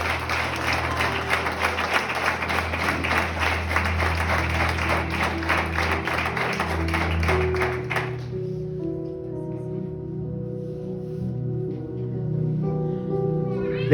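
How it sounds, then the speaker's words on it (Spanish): A church congregation claps loudly and steadily for about eight seconds, dense rapid clapping that then cuts off abruptly into quieter room sound with a sustained tone. "dale un aplauso fuerte"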